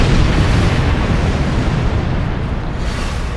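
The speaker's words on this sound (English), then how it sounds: "I just love that torpedo spread" Torpedo spread explosions in the Star Trek Online video game, a dense, loud, rumbling blast of broadband noise that holds steady and slowly fades, with no voices.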